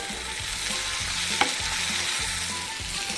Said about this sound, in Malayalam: നമുക്കിതിലേക്ക് ഇഞ്ചി വെളുത്തുള്ളി പേസ്റ്റ് ഇട്ട് കൊടുത്ത് മസാലക്കൂട്ട് ഇട്ട് നമ്മുടെ ലിവറിനെ ഒരു മീഡിയം സൈസ് ഫ്രൈ ചെയ്തെടുക്കാം